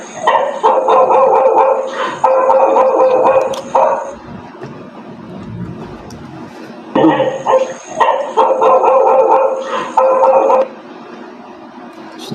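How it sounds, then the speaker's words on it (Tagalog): Several dogs bark and yelp in loud repeated bursts, pausing briefly between volleys, with a voice talking in between. "may mga aso"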